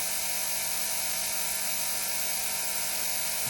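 A Ford V8 engine run by a Speeduino controller holds steady near 3000 RPM, a continuous close rattling mechanical drone with no break in level.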